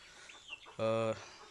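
Chickens eating cabbage, one bird giving a single clear, loud drawn-out cluck close by, with softer scratchy pecking noises before it.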